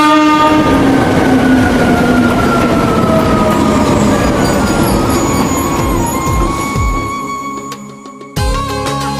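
A passing train sounds its horn loudly and close by, a sustained blare over the rumble and clatter of rail wagons that fades toward the end before cutting off abruptly.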